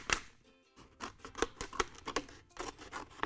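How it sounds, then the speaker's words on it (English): Scissors cutting around a plastic water bottle, giving irregular crisp snips and crinkling scrapes that come in short bursts with brief pauses, close up and fairly quiet, with no talking. "what I'm doing is cutting a water bottle, a plastic water bottle with a pair of scissors around the line"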